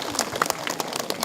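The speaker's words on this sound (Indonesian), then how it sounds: "Tepuk tangan yang meriah." Short burst of audience applause at an Islamic study gathering, scattered claps rising and falling over roughly a second, moderately loud in a room with some voice mixed in.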